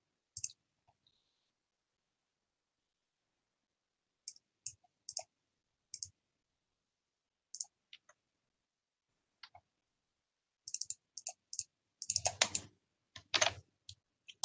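Sparse, quiet clicks and taps on a computer keyboard and mouse, isolated at first and then gathering into a quicker cluster of keystrokes near the end, close and dry in an otherwise silent room.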